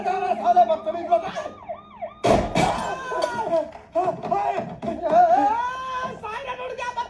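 An emergency siren wails and warbles loudly throughout, cut by a sharp burst of noise, while people talk over it.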